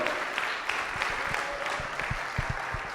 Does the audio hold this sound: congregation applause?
yes